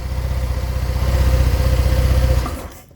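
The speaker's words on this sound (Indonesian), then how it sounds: "Ya, ini udah bisa langsam normal." Honda Vario 125 scooter engine idling steadily after a valve clearance adjustment, close and loud with an even low pulsing rhythm, then cutting out near the end.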